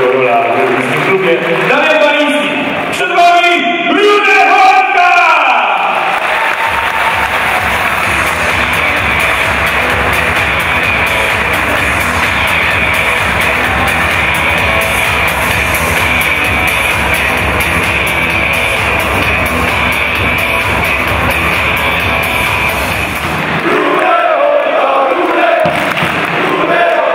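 A crowd at a KS ROW Rybnik speedway team presentation bursts into applause and cheering for a rider, a loud, dense roar of clapping and shouts that lasts about seventeen seconds and comes between stretches of amplified speech.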